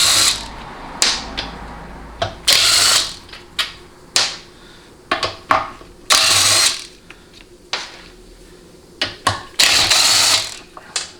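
Ratchet wrench turning half-inch bolts during a Ford C6 transmission teardown, heard as repeated loud bursts of quick clicking separated by short pauses, close by and with no talking.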